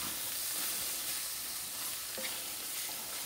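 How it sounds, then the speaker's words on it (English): Cheesesteak filling sizzles steadily in a hot pan, a dense crackling hiss with faint occasional clicks and no talking. "I got this frying like I know it."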